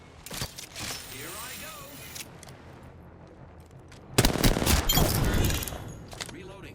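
Gunfire in a Titanfall firefight, short bursts and scattered shots early on, then a loud sustained volley of automatic fire near the end, with voices under the shooting.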